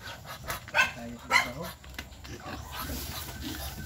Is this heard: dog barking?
yes